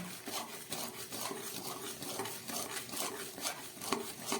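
Sugar frying in ghee in a pan is stirred with a utensil, giving soft continuous scraping and sizzling with irregular light taps against the pan, close and fairly quiet.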